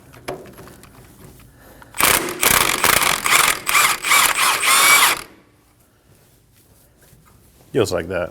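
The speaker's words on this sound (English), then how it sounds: "to get the knot out, I'm gonna use a 24mm socket to remove it" Rapid ratcheting clicks from a 24mm socket on a ratchet loosening a tie rod nut on a 2017-2024 Nissan Armada, a loud close burst lasting about three seconds, with brief talk before and after.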